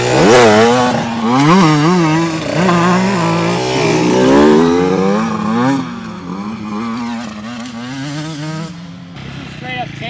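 Beta 125-200cc two-stroke dirt bike engine revving loudly nearby, its pitch rising and falling through repeated throttle blips and gear changes.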